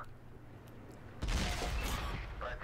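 A tank shell bouncing off a Centurion's armour in World of Tanks, a sudden loud metallic crack and rumbling burst midway through, following quieter game ambience and lingering as a dense roar.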